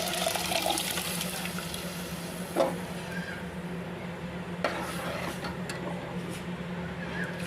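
Cooked field bean lentils are poured into a pan on a low gas flame for a Maharashtrian curry, giving a soft continuous liquid slosh with a steady hum underneath and no talk.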